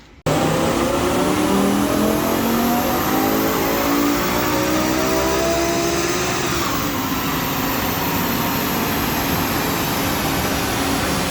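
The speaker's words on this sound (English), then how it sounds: "I realise it's very loud, but the Beamer's back on the dyno with the intake." BMW M5 with a carbon fibre intake revving hard on a dyno, a loud, sustained engine roar climbing steadily in pitch for about eleven seconds with no talk.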